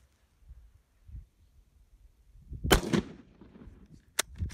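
A single delayed gunshot from Italian surplus 8mm ammunition, a sharp, loud crack that comes after several seconds of quiet handling noise, followed by a faint click.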